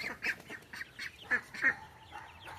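Young ducks on a small farm quack in a series of short, bright calls with brief gaps between them, fairly close and moderately loud, with no talking.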